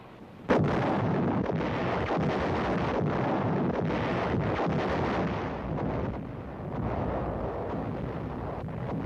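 Heavy artillery fire in a wartime battle, a sudden loud blast followed by a sustained rumbling roar of continuous bombardment with wind-like noise, dense and loud throughout.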